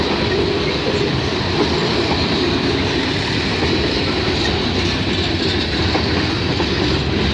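CP freight train 422 with a long string of cars rumbles by at Bronte Street, loud and near, its wheels clacking steadily over the rail joints without pause.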